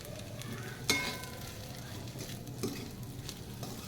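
Wheat kurvadi vegetable being stirred and mixed in a pan, a faint, steady sizzle with two brief, sharp knocks of the utensil against the pan.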